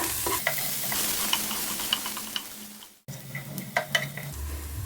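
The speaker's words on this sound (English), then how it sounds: "Finely chopped onion garlic. Saute them for a while." Finely chopped garlic and onion sautéing in a pan for honey chilli baby potatoes, a continuous close sizzle with light stirring scrapes, briefly cut off near the middle before resuming.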